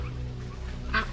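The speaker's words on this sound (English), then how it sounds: "there's a little mallard right there." A mallard duck in the woods gives a short, nasal call near the end, fairly close and loud over a steady low outdoor rumble.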